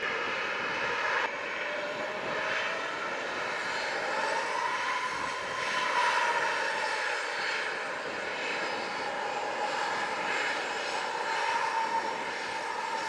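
A Southwest airliner takes off from runway 07 at an airport in Jamaica, its jet engines producing a loud, sustained roar with rising whine tones that swells and holds throughout, heard from a distance outdoors.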